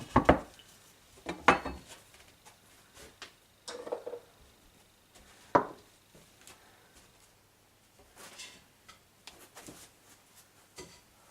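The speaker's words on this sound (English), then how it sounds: "I'm just going to chop it by hand." Ripe rinsed tomatoes chopped by hand for a lacto-fermented salsa, sparse knife knocks on a wooden board, irregular taps and scrapes with quiet gaps between them.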